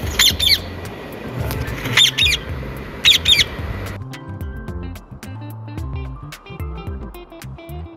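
A parrot squawking in a children's Urdu alphabet poem, three loud harsh squawks in the first half over a busy musical backing that continues alone afterward.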